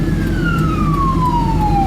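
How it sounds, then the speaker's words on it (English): An ambulance siren wails, its pitch sliding steadily downward as it passes, over the rumble of a car engine. "Ambulance."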